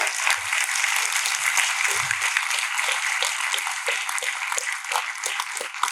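Audience applause at a convocation ceremony, a sustained dense wash of many hands clapping at steady volume for the whole stretch, with no voices above it.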